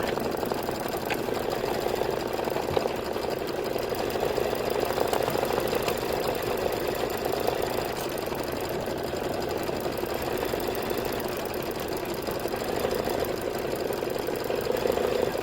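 A Kimberbell embroidery machine stitches out a Life is Better in Full Bloom pillow block, a steady close mechanical whir with fast needle chatter running unbroken throughout, no voices.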